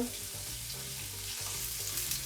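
Beef and shrimp stir-frying together in a pan for Mauritian fried noodles, a soft, continuous sizzle with faint low hum underneath, no talking.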